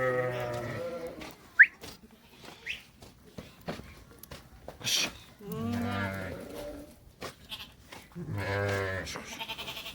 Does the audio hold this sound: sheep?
yes